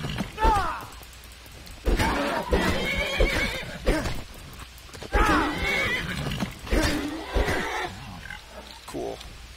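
A horse in the Skyrim video game whinnies several times, with clip-clop hoofbeats and other game sounds, loud bursts spread across the stretch with short quiet gaps between them.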